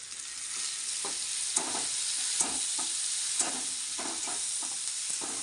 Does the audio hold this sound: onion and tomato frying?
yes